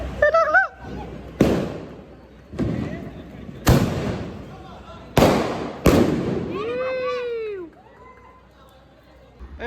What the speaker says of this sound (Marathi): दिवाळीचे फटाके फोडायला जाऊयात खालती